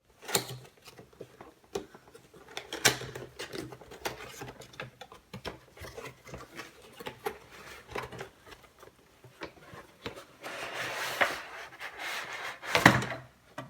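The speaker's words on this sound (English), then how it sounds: "Now let's open up the box and see what's inside." Cardboard packaging of a Philips Multigroom Series 7000 trimmer is opened and handled, with scattered rustles, taps and scrapes and a louder crinkling burst near the end, close and with no talking.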